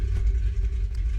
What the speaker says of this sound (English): And the engine sounds very good.